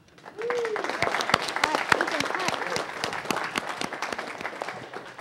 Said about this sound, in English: Let's have them stand up and give them a round of applause